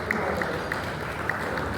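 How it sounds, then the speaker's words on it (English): Audience applause at a youth technology and activism event in West Africa, a steady wash of many hands clapping at moderate level with no pauses. "Please, a round of applause for this."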